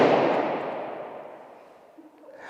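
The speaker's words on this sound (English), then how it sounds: "all the air in that balloon, when I popped it, suddenly got an awful lot bigger" A balloon is stabbed with a paper clip and bursts in one loud, sharp pop at the start, followed by a long fading echo in a room.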